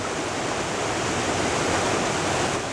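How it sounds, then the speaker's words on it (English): Steady rushing roar of a river waterfall, broad and unbroken, heard fairly close with no other sounds or voices. "goes down to the waterfall"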